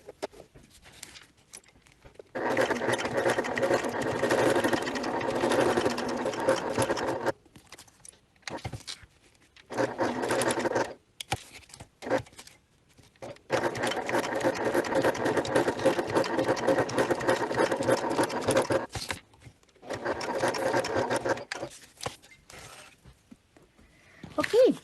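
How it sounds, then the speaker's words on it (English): A sewing machine stitches braid onto the exterior of a leather bifold wallet, running in several long bursts separated by short pauses, loud and close with a steady rapid mechanical chatter. "let's head over to the sewing machine and get this braid stitched to the exterior"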